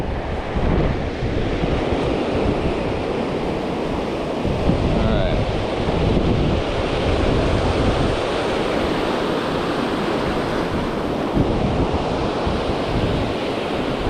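Ocean surf rolls and breaks continuously along the beach at Seaside, Oregon, a steady loud wash of waves with wind buffeting the microphone, no voices heard.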